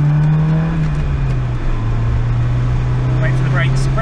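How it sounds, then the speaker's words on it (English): A Peugeot climbs a hill run at full throttle, its engine droning in a steady, loud, sustained note heard from inside the car, with a voice talking over it. "Full acceleration. Here we go."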